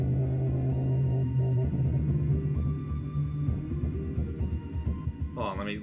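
Synthesized piano or lead melody programmed in FL Studio for a dubstep track, playing a steady, continuous pattern with a low sustained bass beneath and a brief brighter flourish near the end.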